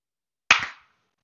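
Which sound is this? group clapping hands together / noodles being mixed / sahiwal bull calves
group clapping hands together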